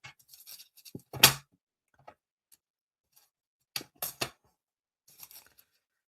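A sheet of foil for the Stampin' hot foil system being cut to width: a couple of short, crisp slicing snips spaced apart, with faint ticking handling noises in between, close and fairly quiet.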